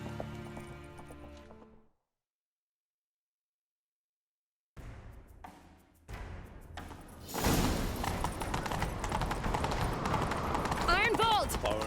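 A horse gallops in The Witcher 3 during a chase. The clip opens with a game sound, falls silent, then a few thuds lead into loud, continuous pounding hoofbeats mixed with dense action noise.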